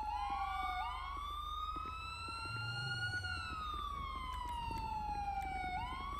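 An ambulance siren in a video game roleplay wails steadily and loudly, sweeping slowly up and down over a low engine hum, with no talking.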